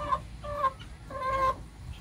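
A few chickens cluck softly nearby in short, throaty bursts, three quick calls with brief pauses between them.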